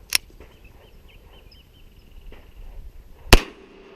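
Smith and Wesson 422 pistol fired, two sharp loud cracks about three seconds apart, the second stronger, with quiet handling noise between.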